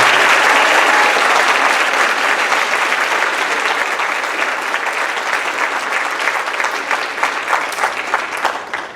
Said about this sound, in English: Round of applause for our 4-year varsity.